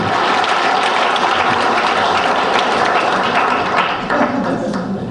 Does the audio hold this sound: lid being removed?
no